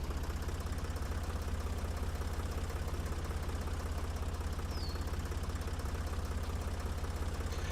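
Tractor engine pulling a heavy plow in the farming game Professional Farmer 2014, a loud, steady low rumble with a rapid knocking pulse throughout, no voices.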